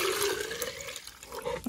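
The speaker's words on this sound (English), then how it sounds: "And then we'll add the water." Water poured into a plastic chick waterer being set up for a stock tank brooder, a short splashing, gurgling fill heard close with slight pitch changes.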